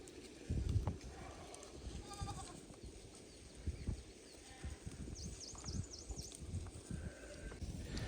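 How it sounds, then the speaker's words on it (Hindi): A flock of sheep and goats from a herd of about 300 moves along a forest hillside path above a deep valley, with faint scattered bleats, shuffling hooves and occasional chirping birds in open outdoor air. "यहाँ से जा रही है भेड़ बकरियाँ आगे की तरफ"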